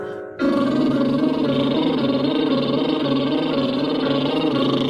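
Loud, sustained voiced buzz from a singer doing a vocal exercise, starting abruptly and holding steady with a rich harmonic hum for nearly five seconds, alone with no talk.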